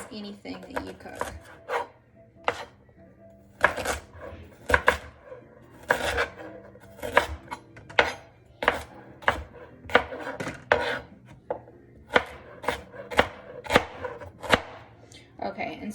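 Garlic chopped on a cutting board for ginger tea, a long run of crisp, irregular knife strikes close to the listener, with speech mixed in throughout.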